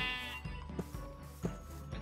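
A Minecraft sheep bleats in a wavering, nasal cry at the start, followed by soft repeated footstep-like thumps and small clicks from the game, fairly quiet throughout.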